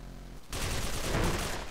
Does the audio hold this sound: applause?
no